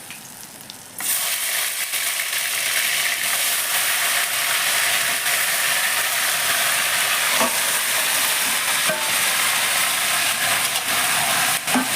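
Chicken pieces hit hot oil with melted, lightly browned sugar for chicken bhuna, bursting into a loud, steady sizzle after a quieter first second, with a few soft clinks from the pan and no talking.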